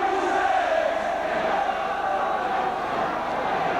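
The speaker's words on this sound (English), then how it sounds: "The popular side crowd, and no doubt all the Saints faithful getting behind them now." Rugby league crowd of St Helens supporters on the popular side at a 1988 St Helens v Wigan match, a steady, loud, distant roar of cheering sustained throughout.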